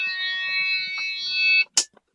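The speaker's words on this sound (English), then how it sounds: "At 60 psi, my light and my buzzer are on" A truck air brake low-pressure warning buzzer sounds a steady electronic tone for about a second and a half at 60 psi, then stops, followed by a short sharp hiss of air.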